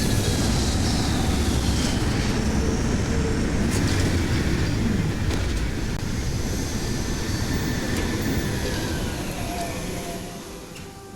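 Spaceship touching down on a cloud in Starfield, a loud, steady broadband engine rumble and roar that holds for several seconds, then gradually eases and fades toward the end, with no one talking.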